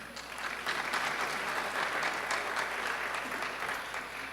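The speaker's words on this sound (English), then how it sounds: "A round of applause, please, for our panelists." Audience at a My Brother's Keeper session applauds the panelists, an even, sustained patter of many hands clapping at moderate distance.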